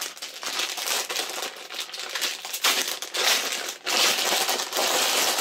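Plastic packaging around a small teacup-shaped plush bag crinkles and crackles up close as it is handled and pulled open, in loud uneven bursts with a short pause midway.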